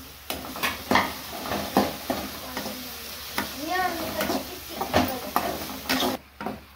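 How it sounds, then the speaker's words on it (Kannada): Chopped onion and capsicum fry in a pan for mango rice (mavinakayi chitranna), a soft sizzle under repeated sharp scrapes and knocks of a stirring spoon, close up. "ಇವಾಗ ಕ್ಯಾಪ್ಸಿಕಮ್ ಹಾಕ್ತಾ ಇದ್ದೀನಿ. ಅದು ಸ್ವಲ್ಪ ಫ್ರೈ ಮಾಡ್ಕೊಳ್ಳೋಣ"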